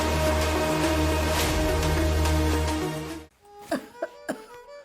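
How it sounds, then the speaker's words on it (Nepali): Someone suffering from a cold coughs three times in quick succession, clear and close, right after a loud stretch of background music cuts out. "रुगा खोकी लागेर सन्चो नभएको धेरै भयो"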